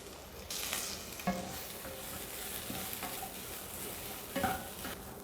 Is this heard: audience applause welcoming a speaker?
no